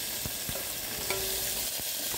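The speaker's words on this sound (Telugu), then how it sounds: "ఇందులో వేగుతున్న ఐటమ్స్ బ్రౌన్స్ ఇచ్చే వరకు వేయించుతూనే ఉండాలి" Onions, green chillies and curry leaves fry in oil with tempering seeds in a pan. They give a continuous close sizzle, broken by a few sharp scrapes and clicks as the mix is stirred.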